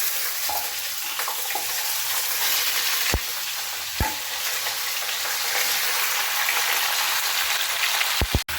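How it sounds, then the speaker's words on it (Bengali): Vegetables frying in hot mustard oil tempered with black cumin seeds, a steady close broadband sizzle with a few sharp clinks of a utensil against the wok. "কড়াইতে আরও খানিকটা সর্ষের তেল দিয়ে ভালো করে গরম করে তাতে কালো জিরে ফোড়ন দিয়ে একে একে সব সবজিগুলো দিয়ে দেব"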